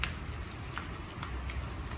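Rain falls steadily in a village, a soft continuous patter with scattered drops, faint and even throughout with no voices.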